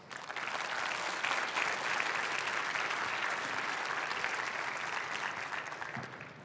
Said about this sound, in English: can we have a round of applause for the ISyE Day Task Force?